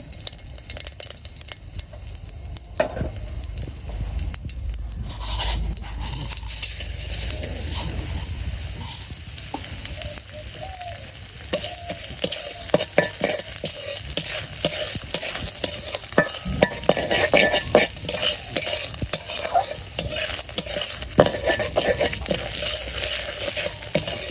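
Fish fries in a pan with cumin and radhuni spices, giving a loud, continuous sizzle, while a spatula stirs and scrapes repeatedly with a sharp crackle as the frying goes on.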